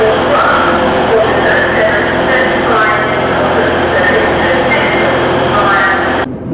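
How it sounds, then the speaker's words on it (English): Interior of a Class 185 diesel passenger train on the Tees Valley Line bound for Redcar Central, a steady loud rumble and hum of running with faint rattles, ending abruptly. "We're on board 185 112 to Redcar Central."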